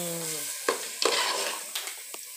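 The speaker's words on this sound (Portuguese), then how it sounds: "Aí aqui a gente continua refogando" Meat sizzles as it is sautéed in a hot, vinegar-scalded pan, a steady close frying hiss broken by a few sharp stirring scrapes and clinks.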